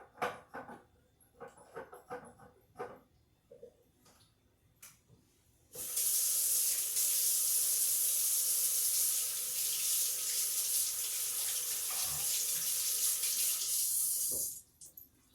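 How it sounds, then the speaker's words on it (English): Tap water runs steadily into a kitchen sink during hand washing after handling raw chicken, a loud continuous hiss lasting about nine seconds before cutting off, preceded by light clattering. "Let me wash my hands before I turn off the camera."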